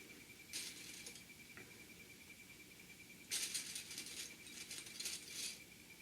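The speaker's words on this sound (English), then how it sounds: "And I'm just going to clip a few more clips." Small plastic sewing clips snap onto the top edge of a fabric Christmas gift bag, a few faint clicks and rattling plastic bursts against steady background hiss, close by with no talking.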